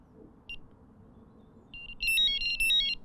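A Nash R4 Siren carp fishing bite alarm sounds a few short electronic beeps, then bursts into a loud, rapid warbling tone sequence repeated twice, close up with no talk.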